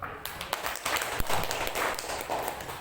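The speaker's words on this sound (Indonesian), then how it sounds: "Tepuk tangan dulu" A short, fairly faint round of applause from a small audience, a patter of many hands clapping together for under three seconds.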